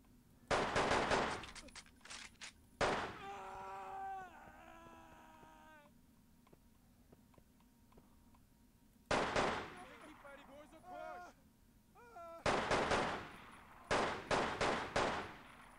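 Gunfire in the tactical shooter Delta Force Land Warrior: several loud, rapid bursts of shots spread across the clip, interleaved with in-game voices and other game sounds, with quieter stretches between volleys.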